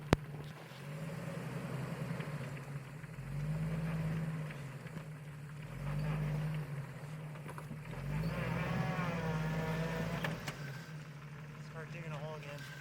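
A stuck vehicle revs its engine in repeated surges while the wheels spin and dig into the ground, a low droning roar rising and falling about every two seconds, with people talking nearby.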